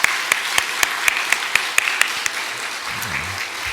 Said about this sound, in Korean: 교회 곳곳에서 함께 우리를 위해, 이 예배를 위해 돕고 있는 모든 손길, 그들 함께 위로하는 차원에서 함께 박수하겠습니다